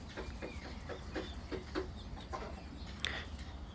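Chickens cluck softly in short, scattered calls over a low background rumble, with a brief sharper squawk near the end and no talking.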